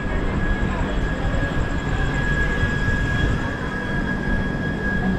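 Inside the Kollam Express as it pulls out behind two ALCO diesel locomotives, a low rumbling rolling noise with a steady whining tone runs continuously, close and moderately loud, with some faint voices underneath.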